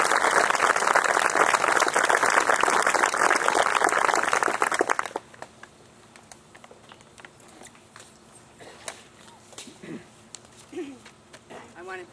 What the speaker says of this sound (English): I would like to conclude with a round of applause